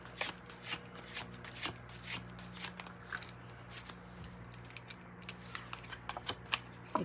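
Tarot cards being shuffled by hand to draw another card, a quiet, close riffling of crisp flicks and soft slaps in an irregular rhythm, with faint room hum underneath and no talking.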